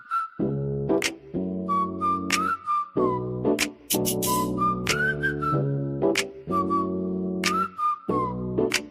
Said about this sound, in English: Because Ness be trying to whistle and everything.